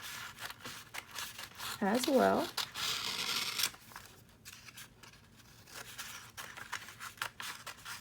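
Scissors snip through paper strips for a couple of seconds, a brief crisp burst of cutting and rustling, with someone talking before and after and quiet room noise between.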